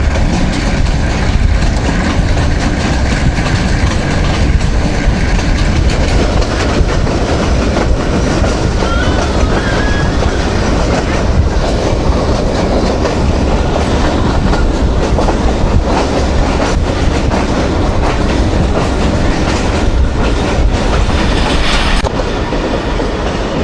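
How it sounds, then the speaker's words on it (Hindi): Loud, unbroken rolling clatter and rumble from inside the Millat Express as it runs through Chalisa railway station, with rhythmic wheel clicks and rail noise holding steady for over twenty seconds. "जी दोस्तों ट्रेन अभी हमारी गुज़र रही है चालीसा रेलवे स्टेशन से"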